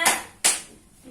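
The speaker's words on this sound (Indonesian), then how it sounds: "Tepuk tangan dulu." Children in a classroom clap their hands in two short, sharp bursts of applause, each fading quickly, with a quiet pause between them.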